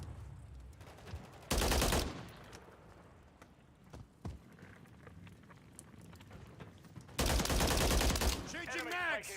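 Gunfire in a military shooter video game: two loud, dense bursts of automatic fire, one brief and one longer near the end, with scattered single shots between and voices calling out over the fight.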